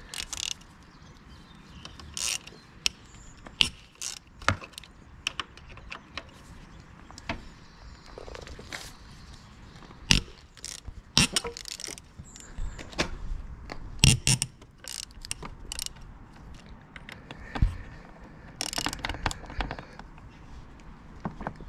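A 6mm Allen key works the handlebar bolts on an Aprilia Tuareg 660 motorcycle, giving repeated metallic clicks, ratchety scrapes and taps in irregular bursts, close and fairly quiet, with no talking.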